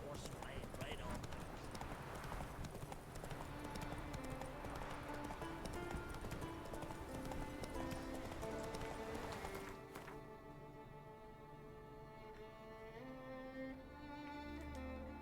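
Roach the horse gallops in The Witcher 3, hooves clip-clopping rapidly and continuously under game music, and someone speaks over the hoofbeats. The galloping fades after about ten seconds.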